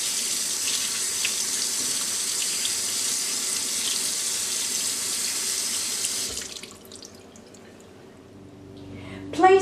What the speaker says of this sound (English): Rinse the pollock fillets with cold water